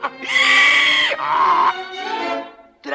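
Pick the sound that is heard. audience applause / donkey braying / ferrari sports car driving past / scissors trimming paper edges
donkey braying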